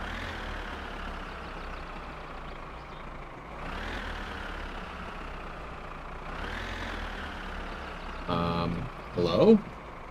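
Tractor engine in My Summer Car, a steady low droning rumble that swells twice in revs, with a few brief clattering knocks near the end; a voice can be faintly heard under the engine.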